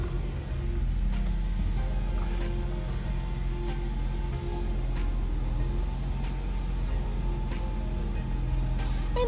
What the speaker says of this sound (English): now that the engine is running and the dashboard's lit up